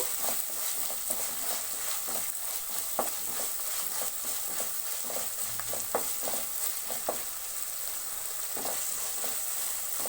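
Tomato masala for an Andhra-style prawn fry sizzles steadily in a pan, a continuous close hiss broken by the scrape and clink of stirring, with no voices.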